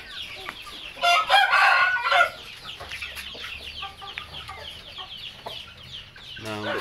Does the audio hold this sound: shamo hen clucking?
yes